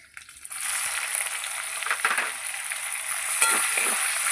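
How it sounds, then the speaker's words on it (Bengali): Chopped onion fries in very hot oil with dried red chilli, whole cumin and a bay leaf, giving a loud, steady, close sizzle that starts abruptly and holds throughout with slight stirring. "পেঁয়াজটা একটু ভেজে নিয়ে তারপরে মশলাটা দেবো"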